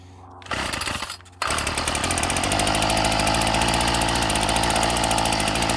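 A Ryobi 740r two-stroke engine, just started after winter storage, runs on half choke: after a brief burst and a short drop it settles into a loud, steady, close buzzing idle with no talking.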